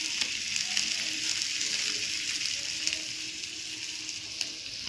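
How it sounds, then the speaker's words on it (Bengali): Masoor lentils frying in oil for a dal tadka, giving a bright, steady hiss of sizzling close by, with faint scraping from stirring now and then and no voices. "এবারে মুসুর ডালটা দিয়ে দেবো। এটা আর একটু তেল দিয়ে নাড়তে হবে।"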